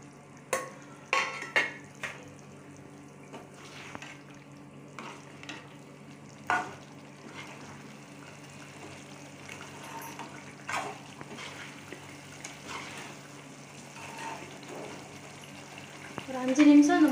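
Egg masala gravy simmers in a pan with a soft, continuous sizzle and bubbling, broken by a few sharp clicks and knocks of cookware, fairly faint and close.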